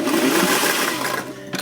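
A sewing machine stitches along the hem of a gathered sleeve, running as a close, continuous whir for under two seconds before stopping, with no talk.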